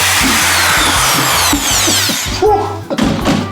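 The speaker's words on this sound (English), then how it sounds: "The aim is to drill a hole 1 inch from the bottom." A power drill whines steadily while boring a hole near the bottom of an oil container, with scraping and rubbing noises and a brief pause before grinding resumes.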